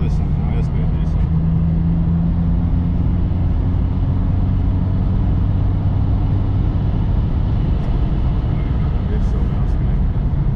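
BMW E81 hatchback accelerating in fifth gear at about 120 km/h on an open road, a steady loud engine drone and road roar from inside the cabin that persists throughout, with traffic nearby.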